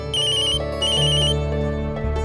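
A phone ringtone plays loudly in a repeating melodic pattern of bright tones over a steady low hum, sounding during a tense domestic TV drama scene, with no voices over it.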